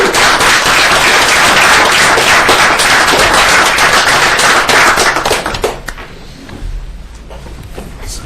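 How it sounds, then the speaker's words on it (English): A round of applause fills a city commission meeting, dense and loud clapping from many people that carries steadily for several seconds before dropping off abruptly to a quieter room. "I think a round of applause for everybody"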